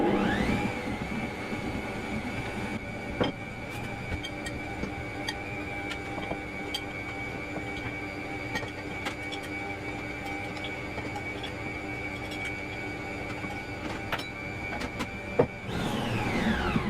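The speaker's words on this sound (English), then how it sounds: "Then start beating the mix on low while adding in the flour." An electric mixer beats shortbread cookie dough on low speed, a steady whirring motor hum with faint rhythmic ticking, running continuously for most of the stretch before cutting off near the end.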